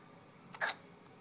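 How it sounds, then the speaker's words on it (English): A baby hiccups once, a single short, close, sharp catch of breath rising briefly above a quiet room. "Who has the hiccups?"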